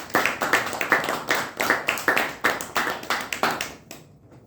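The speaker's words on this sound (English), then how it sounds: "Let's give a big applause." A small group at a Toastmasters club meeting claps in a steady, fairly brisk rhythm. The claps are close and distinct, then stop abruptly just before the end.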